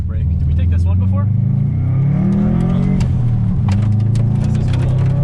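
A Subaru WRX driven rally style on a winter course growls and revs with a rough, fluctuating engine note and shifting pitch, close and loud, with excited voices talking over it.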